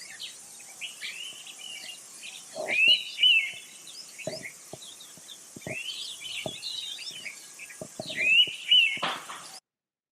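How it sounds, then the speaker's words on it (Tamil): An Indian pitta, a migratory bird, calls in the field with repeated short whistled notes, while other faint chirps and insect buzz run underneath. "இந்த பறவையின் பெயர் இந்தியன் பிட்டா என்ற ஆங்கிலத்திலும், தமிழ்ல 6 மணி குருவி அப்படின்னு இதை நம்ம சொல்றோம்"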